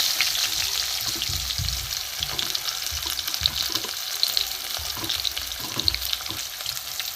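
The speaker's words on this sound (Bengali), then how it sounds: "পেঁয়াজটা একটু ভাজা ভাজা হচ্ছে" Onions fry in oil in a pan with dry chilli and bay leaf, making a moderate crackling sizzle with repeated low scraping stirs at an irregular rhythm, close by and without talk.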